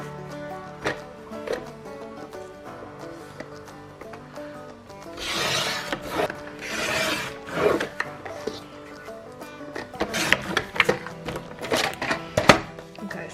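Scrapbook paper being cut into a square while crafting, heard as soft rubbing, scraping blade strokes and light thunks in uneven bursts, close and fairly quiet, with no talking.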